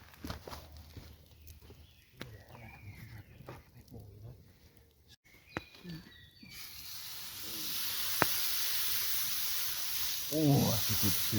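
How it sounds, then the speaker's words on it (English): Beef sizzles in a pot over a campfire, a bright steady hiss that starts abruptly midway and continues to the end, after quieter rustling and footsteps outdoors, with a brief voice near the close. "that's a good sizzle"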